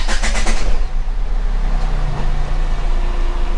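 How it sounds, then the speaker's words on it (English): A Tata Altroz fitted with a new EFB battery cranks briefly and catches, the rapid starter pulses giving way to a steady, close engine idle with no talk. "So let us start the car."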